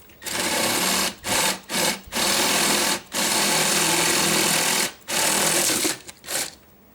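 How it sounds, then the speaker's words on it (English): Power drill with a spade bit boring into wood, running in loud bursts of steady whirring broken by brief stops, with several short pulses near the end. "This is a spade and they're pretty good at preventing chip out on the surface that you're drilling into anyway."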